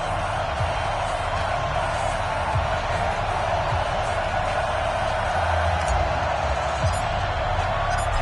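Stadium crowd roaring steadily through an NFL matchup between the Oakland Raiders and Houston Texans in EA Sports Madden NFL, a dense continuous wash of cheering with no pauses, loud and even throughout.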